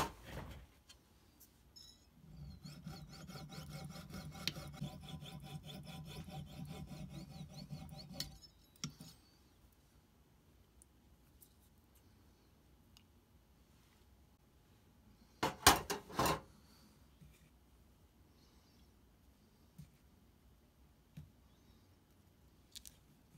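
A Jig Vise mitre cutter working through pieces cut to a set length against a stop, giving a steady rasping, rubbing cut for several seconds, then quiet handling with a couple of sharp knocks.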